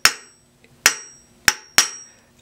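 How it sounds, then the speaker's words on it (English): Four sharp, ringing metallic strikes of a planishing hammer on the base of a raised copper beaker, evenly spaced with bright decaying rings, alone and close. "putting the hammer marks as close as I can to one another"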